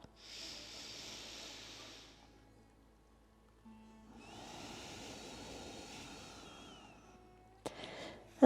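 Slow, deep breaths during a yoga session: a long airy inhale, a pause, then a long hissing exhale, close and soft, with a faint click at the end.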